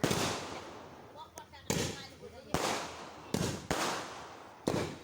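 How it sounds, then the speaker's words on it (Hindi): Diwali firework shots going off outdoors at night, several sharp cracking bursts spaced about a second apart, each followed by a crackling, fizzing tail. "तो यहाँ स्टार्ट हो गया शॉट, एक गला दिशा में चले गया है"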